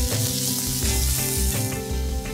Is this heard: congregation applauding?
no